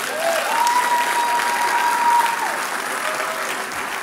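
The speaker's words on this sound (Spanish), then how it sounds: "¿Por qué no le dan un aplauso a esta mujer de Dios?" Applause from a church audience for a woman invited forward, a steady crowd clapping with a faint sustained tone running beneath it for a couple of seconds.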